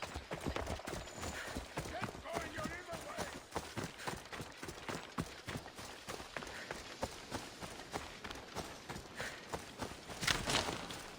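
Horse hooves clip-clop steadily at a brisk pace while riding in the Assassin's Creed Odyssey video game, a continuous rapid patter under faint background sound and occasional voices.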